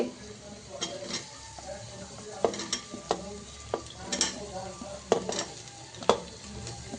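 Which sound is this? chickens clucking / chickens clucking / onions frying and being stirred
onions frying and being stirred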